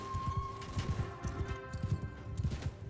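Mounted horse archers in the samurai strategy game Shokuho ride across the battlefield, many overlapping hoofbeats drumming in quick rhythmic clusters, close and fairly loud over a faint steady tone.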